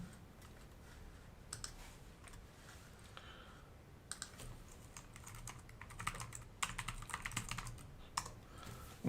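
Someone types a chat comment on a computer keyboard: quiet, close key clicks in irregular bursts with short pauses, growing busier toward the end against a soft background hiss.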